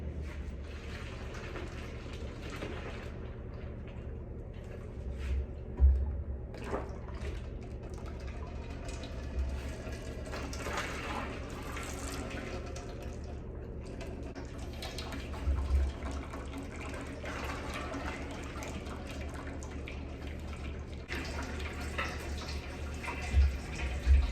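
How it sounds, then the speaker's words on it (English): Maple syrup, slightly burnt and golden, pours steadily through sock filters, a soft continuous liquid wash with low rumble and a few faint knocks, no talking. "We're gonna start pouring it into the socks"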